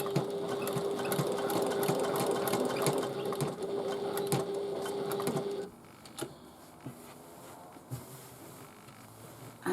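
A sewing machine stitches a tote bag in a steady, fast mechanical whir for about five seconds, then stops, leaving a few quiet handling clicks and shuffles.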